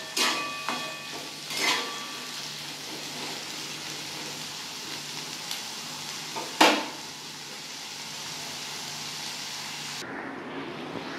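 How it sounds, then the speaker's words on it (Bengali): Capsicum and onion lightly frying in a pan while making a spicy chhena masala, a soft steady sizzle with a few sharp clinks of utensil against pan, ending in quieter background. "দেখুন আমার ক্যাপসিকাম পেঁয়াজটা হালকা করে ভাজা হয়ে গেছে।"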